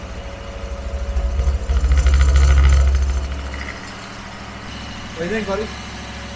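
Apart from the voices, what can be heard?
Dodge 318 engine running at idle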